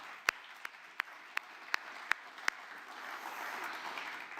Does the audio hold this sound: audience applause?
yes